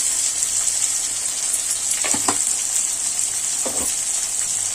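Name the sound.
sautéing vegetables in a pan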